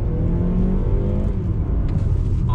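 A 2020 Mazda CX-30 accelerates on throttle while changing direction, its engine drone loud, steady and close throughout, with no talking.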